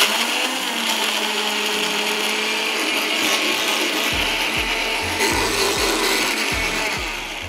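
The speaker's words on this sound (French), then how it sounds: "on vient tout de suite les passer au mixeur" A kitchen blender grinds flaxseed, a loud continuous whirring roar with rattling, ratchety clatter as the seeds churn, steady throughout and fading slightly at the end.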